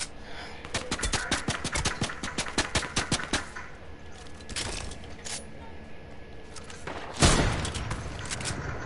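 Rapid automatic gunfire in a video game rattles for several seconds, then thins to sparse shots and ends with a loud blast, all close and sharp.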